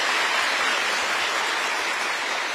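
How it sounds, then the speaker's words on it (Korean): Lecture audience applauding together during a special talk for newly appointed national civil service managers, a dense, steady wash of clapping filling the room without pause. "네, 박수 부탁드리겠습니다."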